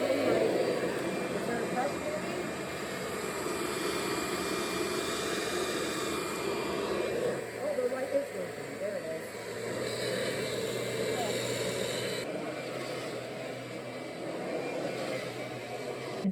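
A Kirby upright vacuum cleaner runs steadily with its brush belt engaged, a constant broad whooshing drone at moderate level that dips briefly midway and then carries on.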